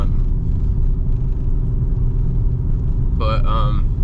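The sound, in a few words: car with custom single exit exhaust driving, shifting at 2,800 RPM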